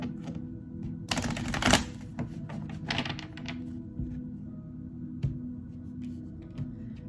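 Tarot cards being shuffled by hand, with a loud riffling burst near the start, a shorter one after it, then soft scattered taps and card flicks.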